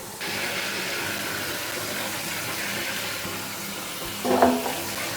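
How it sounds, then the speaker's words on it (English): A Cosori air fryer basket is rinsed under a kitchen sink tap, giving a steady hiss of running water throughout with a brief louder splash near the end. "So now, we're just gonna rinse it off."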